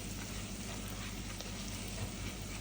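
Onions and raisins frying and being stirred in a pan for a stuffed chicken-ball dish, a steady close broadband sizzle with faint scraping throughout, no voices.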